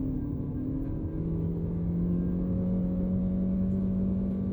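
An MG Astor with a CVT pulls at full throttle in sport mode, a steady droning engine note with a slowly rising tone heard from inside the cabin, loud and continuous with no talk.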